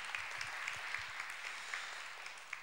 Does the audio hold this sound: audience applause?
yes